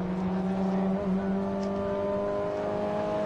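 Mini Cooper race cars from the 2011 Scottish Mini Cooper Cup run flat out down a circuit straight, a steady, sustained engine drone with layered buzzing tones that holds evenly throughout.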